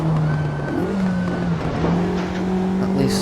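Simulated race car engine from a racing game like Assetto Corsa or RaceRoom, revving with quick pitch changes through gear shifts, a faint tire squeal near the end, loud and unbroken, no voices.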